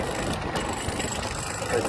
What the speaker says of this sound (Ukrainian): Заводиться трактор легко.